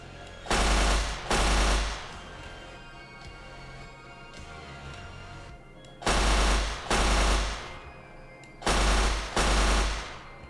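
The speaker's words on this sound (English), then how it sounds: "Do a burst pretty much with machine gun" Machine gun bursts from a Minecraft nuclear tech mod weapon, four loud sustained rattling volleys of about a second each, spaced apart with quieter background between them and no talking.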